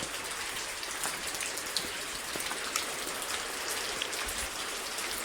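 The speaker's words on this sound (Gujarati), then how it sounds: "તો ભાઈ વરસાદ ચાલુ થઈ ગયો" Steady rain falls, a dense hiss of patter with occasional louder drops striking a nearby surface, no voices.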